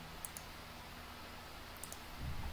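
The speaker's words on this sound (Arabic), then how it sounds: "رايت كليك" A computer mouse clicks faintly in a quiet room while Windows Server 2016 is being administered, with a couple of pairs of soft, crisp clicks spaced apart.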